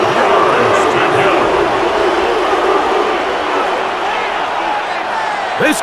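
A dense, steady roar of a stadium crowd in the American football game Madden NFL 26 fills the whole stretch as the home fans build for a third down, Ravens against Browns, with commentary voices under it.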